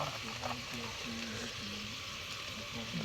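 Onions with chili powder and spices fry steadily in a pan, a continuous close sizzle and crackle with faint stirring scrapes underneath.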